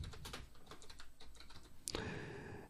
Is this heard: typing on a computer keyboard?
yes